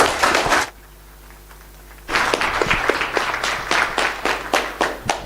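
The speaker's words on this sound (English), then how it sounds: "A better clap as the president walks to her seat." An audience applauds at the opening of a moot court competition as the president walks to her seat, a burst of clapping that stops briefly, then resumes as a sustained crowd of claps with sharp individual hand strikes, close and lively.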